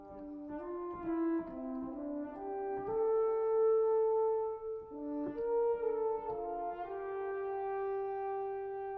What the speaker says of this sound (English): the classic mix on the French horn sounds like this